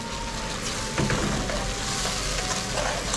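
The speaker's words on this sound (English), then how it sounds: "So we want to keep stirring it and let it cook at the same time." Curry masala frying in a pan while being stirred for an Eid family meal of chicken and dhal curry, a steady close sizzle with soft scraping stirs, no talking.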